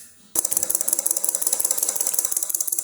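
An AC induction motor converted to run as a brushless DC motor starts abruptly after a quiet moment, then runs with a rapid, even clicking, ratchet-like pulse, close and steady, with no talking.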